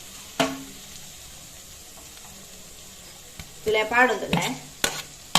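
Chicken liver mixture stirred in a frying pan, with soft sizzling and scraping strokes bunched into a short burst late on after a quiet stretch, plus a couple of sharp taps against the pan and a few words of speech.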